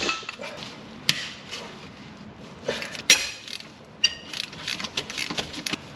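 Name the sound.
tool loosening bolts to release belt on Honda engine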